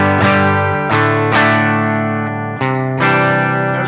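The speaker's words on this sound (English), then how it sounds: "It's not too intrusive, kind of like a chorus effect, a slow chorus effect" An electric guitar plays through a Phase 90 phaser pedal into an amp, sounding loud and sustained with a slow, chorus-like sweep over several strummed chords that ring into each other.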